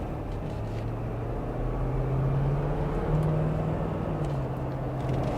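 A 2023 Ford F-250 Lariat pickup with the High-Output PowerStroke diesel, single rear wheel and 10-speed automatic, accelerating from inside the cab as a steady low engine drone that rises slightly in pitch beneath broad road noise, with no talk.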